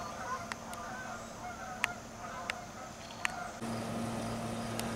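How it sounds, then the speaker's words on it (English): Canada geese in a zoo enclosure honk in a few sharp, separate calls spaced about a second apart, fairly distant over a constant ambient hiss. "Checking out the Canada geese."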